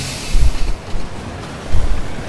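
A tram rolls along in the city-building game Cities in Motion, giving a loud, steady rumble with two heavier low thumps like wheels crossing rail joints, and no voices over it.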